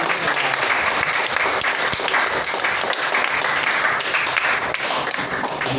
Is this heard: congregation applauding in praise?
yes